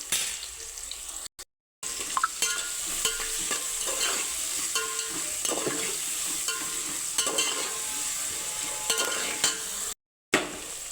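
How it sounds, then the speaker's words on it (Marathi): Onions, salted to brown faster, sizzle and fry in a pan as the base for a Maharashtrian mutton pulao, with a steady close hiss and scraping stirs throughout. "कांद्याला पण हलका गोल्डन कलर येईस्तोवर आपण भाजून घेणार आहोत।"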